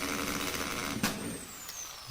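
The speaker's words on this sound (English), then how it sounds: "You can see within few seconds the drill machine puts a hole on the pot." A Bosch 13 RE Professional drill bores a hole through a pot, giving a steady, close motor whir that runs unbroken for about two seconds with a brief surge near the middle.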